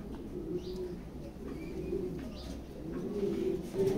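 A pigeon at a loft coos in low, soft rolling calls, repeating steadily against a quiet background of light chirps, with no one speaking.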